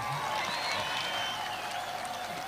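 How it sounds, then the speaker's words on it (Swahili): An audience claps steadily at an outdoor mass registration of security guards at Uhuru, a continuous, fairly distant wash of hands with no break. "Muongezee makofi tafadhali."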